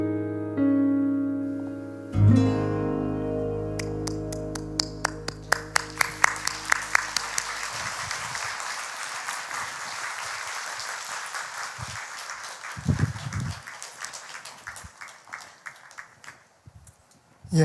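Audience applause in a church service after a mime performance, a dense sustained clapping that swells and carries on for many seconds, loud and close, with a few sharp individual claps and some low voices underneath.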